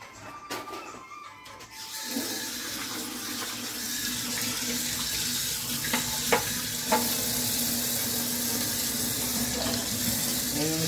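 Soya chunks being washed under a running tap, with a steady, close rush of water hissing into a sink or bowl that builds after a couple of seconds and carries on evenly with small splashes.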